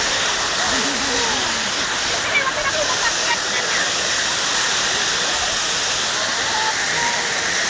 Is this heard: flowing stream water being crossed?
yes